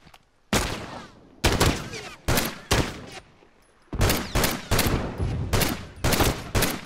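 Bursts of gunfire from The Last of Us multiplayer, several loud, sharp volleys repeating about every half second to a second with brief gaps, a dense close firefight with no talk over it.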